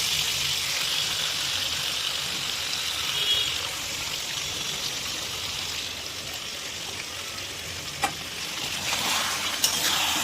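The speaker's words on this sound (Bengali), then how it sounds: "এই মাংসটাকে দিয়ে দেব এই তেলের মধ্যে" Marinated mutton fries over a high flame in hot oil in a kadai, giving a dense, continuous close sizzle with a couple of sharp clicks from stirring near the end.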